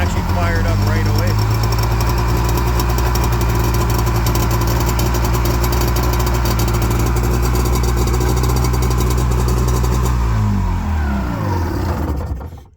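Engine of a rare old mini jetboat, just fired up after repairs, running at a loud, steady close-up idle for about ten seconds before winding down and cutting out near the end.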